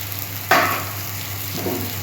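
Kashmiri chili powder and meat masala hit a pan with a little water, bursting into a sharp, close sizzle that quickly fades to a softer fry, followed by a brief second stirring rustle.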